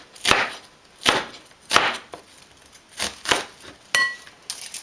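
A knife slices an onion on a cutting board in a quick series of about eight crisp, close chops at an uneven rhythm, with a light clink near the end.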